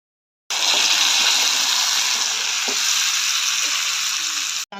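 Tomato sauce for Egyptian koshari sizzling in a hot pan, a loud, continuous frying hiss with faint stirring clicks, starting sharply and holding steady for several seconds.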